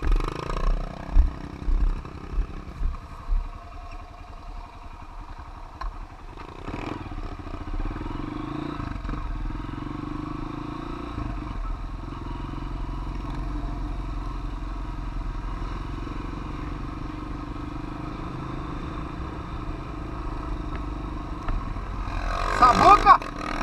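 A Honda CRF230 dirt motorcycle engine drones steadily, revving and shifting as it rides along a dirt road, with a brief louder burst near the end.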